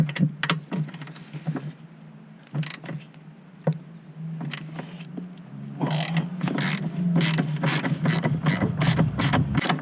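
Ratcheting clicks from a jack raising an Audi A2 TDI gearbox, a steady run of rapid mechanical clicks that grows denser and louder in the second half, close by with no talk.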